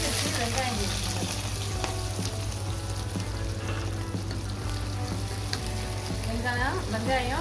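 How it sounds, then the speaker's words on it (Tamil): Onions sizzling and frying in hot oil with mustard seeds, a steady close crackle with occasional pops and stirring, under a low background hum; a voice speaks faintly at times. "கடுகு நல்லா எடுத்துச்சு. வெங்காயம் சேர்த்துக்குங்க."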